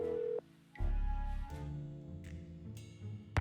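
Telephone dialing in the Nancy Drew: The Haunted video game: several short, distinct tones sound one after another over a low background hum, with clicks and small shifts between them.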